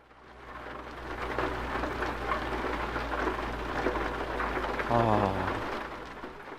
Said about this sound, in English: Let's stop the music for a second, and let's hear this beautiful rain.